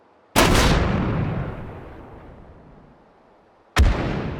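Two loud explosions set off at long range in the H3VR virtual reality game, each a sudden heavy boom followed by a rumbling tail that fades over seconds; the second lands near the end, alone without voices.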